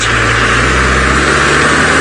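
A safari vehicle's engine runs loud and close during an early morning game drive, a continuous mid-pitched motor roar with a low rumble that eases slightly toward the end.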